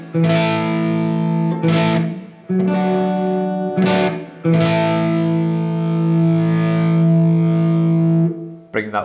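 Gibson Les Paul 50s Standard electric guitar through distortion strumming a major chord, several loud sustained strums with short breaks between them, ringing close.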